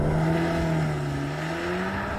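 A new Audi S3 accelerating hard, its engine note climbing steadily in a smooth continuous rise, loud and close with no talk over it.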